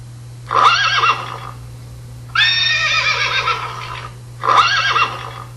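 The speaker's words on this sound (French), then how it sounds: "Des chevaux." Horses in the countryside neigh in three separate loud, close whinnies, each a shaky, quavering call about a second long, with short pauses between them over a low constant hum.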